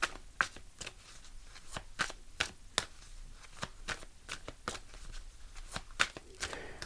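A deck of angel answer cards is shuffled by hand, giving a quiet, steady series of crisp card slaps and flicks with no talking.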